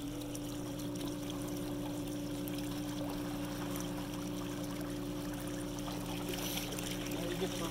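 Water churns and rushes steadily in an endless pool as the swim current runs, forming a constant, even flow with a low mechanical hum beneath it, with no pauses.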